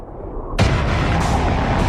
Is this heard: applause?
no